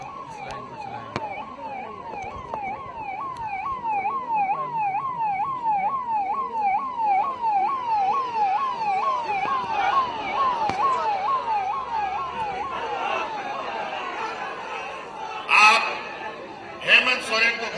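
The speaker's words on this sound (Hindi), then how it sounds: "जरा यहां एम्बुलेंस फंस रहा है, इसको एम्बुलेंस को फंसने ना दे, एम्बुलेंस को निकाल दो" An ambulance siren wails in a steady rising and falling sweep while stuck in a dense crowd of party workers outside a residence in Jharkhand, with voices, chatter and brief laughter around it.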